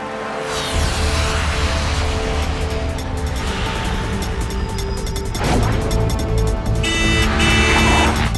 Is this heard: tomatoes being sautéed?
no